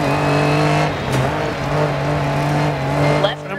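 A Lancia Stratos rally car in DiRT 4 drives with a loud, steady engine drone that dips and rises as the gears change, ending with a brief skid or impact.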